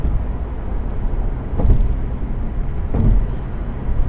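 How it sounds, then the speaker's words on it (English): A car cruises along a multi-lane highway, a steady low road and engine rumble heard from inside, with a couple of brief soft bumps rising out of the continuous drone. "as I'm riding on the highway"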